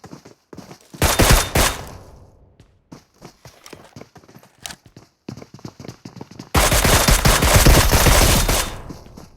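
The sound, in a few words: gunfire in a shooter video game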